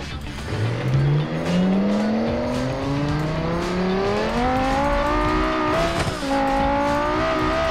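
A car races in the BeamNG driving game, its engine note climbing steadily in pitch as it accelerates hard toward an XXL ramp at extreme speed, loud and continuous, with tire noise and a brief harsh disturbance near the end.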